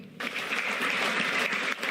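Central bank officials, including the Bank of Korea governor, break into close, steady applause that starts abruptly and holds evenly throughout.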